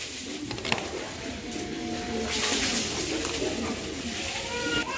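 Mundian pigeons at a breeding farm give soft, low cooing calls that sit faintly under a steady background hiss, with a brief clatter near the start.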